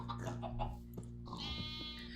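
Sheep bleating in Minecraft, a couple of wavering, nasal bleats close and clear over a faint low drone, with no talking.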